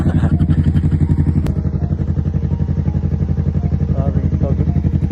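A Yamaha MT-03 motorcycle ridden at night on a foggy road, its engine throbbing in a loud, steady pulsing drone close to the listener, with a brief sharp click early on and faint voices beneath.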